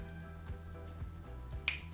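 Finger snaps used to train a pet budgie with food rewards, a few soft, quiet snaps spaced apart against faint room background, no speech.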